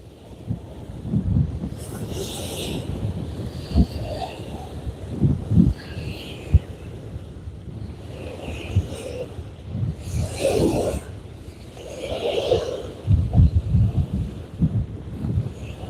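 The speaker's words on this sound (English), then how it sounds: "The wind, the sound of the wind isn't bad." Gusting wind on Cochiti Lake, New Mexico, buffets the microphone in low rumbling surges on a choppy day, with waves and faint voices in the background.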